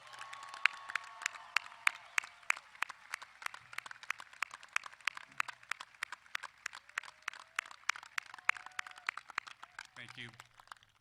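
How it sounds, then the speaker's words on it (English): Scattered applause from a commencement audience honoring high school seniors, sparse claps continuing steadily for about eleven seconds at moderate distance, with faint murmuring beneath. "Give these seniors a round of applause."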